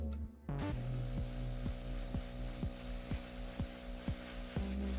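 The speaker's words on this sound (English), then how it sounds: "So you guys will have to tolerate my squeaky hand drill." A squeaky hand drill boring into plastic miniature barrels on a Warhammer 40k model, giving a steady tonal whine with regular rhythmic squeaks about every half second, close and alone.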